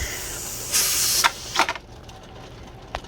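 A pressure canner loaded with jars of homemade ghee vents steam in a loud, steady hiss for about half a second, then gives a few shorter, sharper puffs before going quiet, with one last faint puff near the end.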